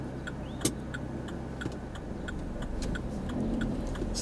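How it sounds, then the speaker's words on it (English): A car engine hums steadily through a gear change during a driving lesson, a low continuous drone with a faint rise near the end, plus a light regular ticking and one brief clunk early on. "So let's see how smooth we can get this gear change."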